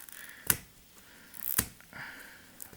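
Scissors cut through the plastic foil wrap on a comic, giving two sharp snips about a second apart, the second with a short rustle of film, against near silence.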